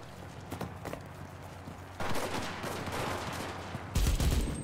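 Gunfire in the World War II shooter game Enlisted, sharp repeated shots in irregular bursts, louder and denser toward the end, with no talk.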